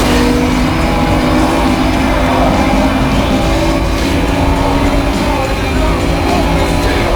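Racing cars in Need For Speed: Most Wanted roar steadily throughout, a loud continuous engine drone with shifting revs and game effects, with no pause.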